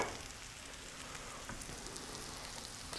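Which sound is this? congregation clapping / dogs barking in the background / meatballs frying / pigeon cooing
meatballs frying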